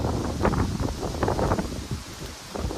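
Strong gusty wind sweeps across open ground in Wenquan County, Xinjiang, near the national border, roaring and buffeting in uneven surges with rustling throughout and no voices.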